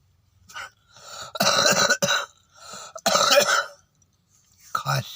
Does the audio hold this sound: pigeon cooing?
no